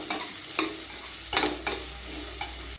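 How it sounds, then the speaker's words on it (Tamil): Three medium-sized cut onions sauté in a pan for oyster mushroom biryani, a close, steady sizzle punctuated by four or five sharp spatula scrapes and taps against the pan, with no voices. "இப்போ வெங்காயம்லாம் நல்லா வதங்கி வந்துடுச்சு."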